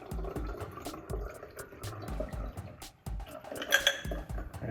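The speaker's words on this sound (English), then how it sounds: "Now grab yourself a funnel and a bar strainer and strain the goodies into your Corona." A mojito is strained through a funnel and bar strainer into a Corona bottle, with repeated clinks and taps of glass and metal and a brief trickle of pouring liquid, close and moderately quiet.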